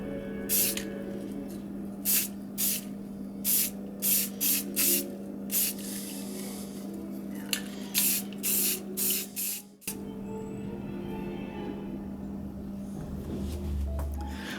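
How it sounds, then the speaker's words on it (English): Repeated short bursts of Rust-Oleum Rusty Metal Primer, a brown paint, from an aerosol spray can, used on HO-scale model trees. The sprays hiss in an irregular series of close, loud pulses over a steady background hum. "let's hit it with a little Rust-Oleum Rusty Metal Primer"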